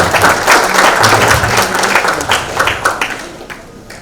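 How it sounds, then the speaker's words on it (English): Applause from the audience at a Rotary Club of Madras award meeting, a dense steady clatter of many hands filling the room, loud throughout and gradually thinning toward the end, with no speech over it. "Let us give big round of applause"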